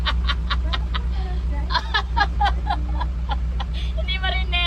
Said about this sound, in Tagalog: sobrang ingay ng truck mo, hindi maririnig